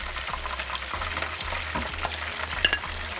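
Browned turkey pieces fry in a pan, a close, steady sizzle broken by light scrapes and clinks of a utensil against the metal.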